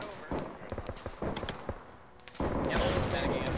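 Gunfire and booming shots ring out in a World War 1 naval trench battle in Arma 3, several sharp reports scattered over a noisy battlefield din, with a steady loud roar of sustained fire in the last second.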